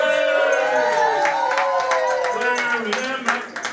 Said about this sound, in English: Big round of applause to our ladies.